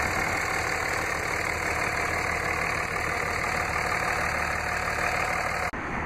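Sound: Cummins turbo diesel inline-six engine idling

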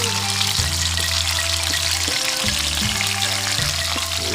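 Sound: termite mushrooms frying in a pan

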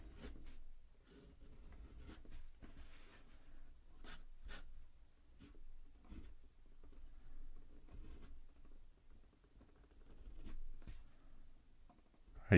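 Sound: fountain pen flex nib writing on paper

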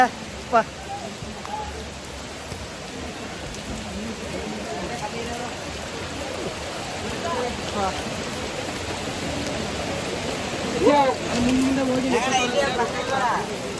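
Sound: heavy rain

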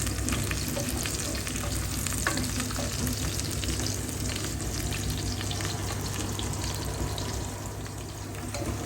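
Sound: sautéing bean sprouts (toge) in a pan

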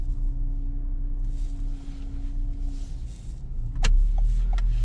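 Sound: car engine while driving

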